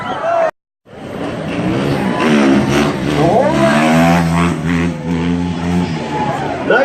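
A dirt bike engine revs and wavers through rising and falling pitches during a slow stunt, loud and near after a brief cut, with people talking over it.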